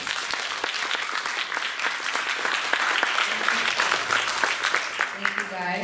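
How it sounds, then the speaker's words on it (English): An audience at a high school Model UN closing ceremony applauds panelists, with dense, sustained clapping throughout and a voice speaking briefly at the end. "let's give our panelists a round of applause"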